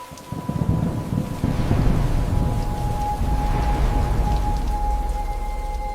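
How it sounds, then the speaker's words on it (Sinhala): Heavy rain from Cyclone Ditwah pours down in a dense, steady roar, with deep rumbling thunder rolling underneath throughout and no talking. "මේක නිකන් වැස්සක් නෙවෙයි දිත්වා කියලා මහා කුණාටුවක්"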